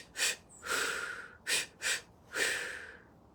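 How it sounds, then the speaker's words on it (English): Deep, deliberate breaths during a guided breathwork session, heard as five close breaths: short sharp sniffs alternating with longer drawn-out inhales and exhales, with no talking. "Keep breathing, keep breathing."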